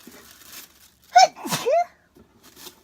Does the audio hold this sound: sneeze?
yes